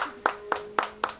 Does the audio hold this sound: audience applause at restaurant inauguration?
yes